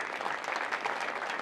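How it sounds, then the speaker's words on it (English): A coach and team applaud at an ISSF World Cup shotgun shooting competition in Changwon, a steady patter of clapping from a small group lasting throughout, moderately distant and without talk. "Hill takes her final pair at station 5 to applause from her coach and team"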